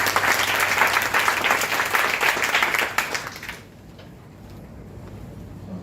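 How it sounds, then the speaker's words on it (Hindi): Audience applause at a college Hindi Day celebration, a dense burst of many hands clapping that fills the hall for a few seconds, then cuts off into quiet room tone. "आपकी जोरदार तालियां होनी चाहिए।"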